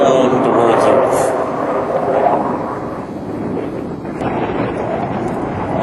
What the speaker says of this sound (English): The aircraft very rapidly swaps ends and is pointed right back down towards Earth.